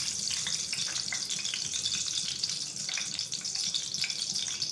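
Steady sizzle of hot ghee frying in a pan as cardamom goes in, a continuous bright hiss with small crackles, close and even, no voices.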